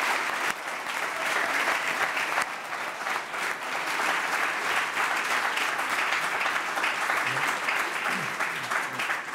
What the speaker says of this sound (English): this is why people applaud